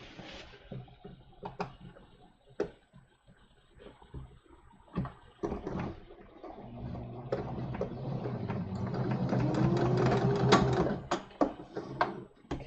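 Sewing machine re-stitching a tunic seam starts with sparse ticking clicks, then runs in a steady close mechanical whir, faint and alone.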